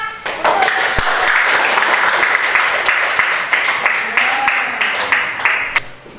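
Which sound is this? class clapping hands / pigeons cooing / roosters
class clapping hands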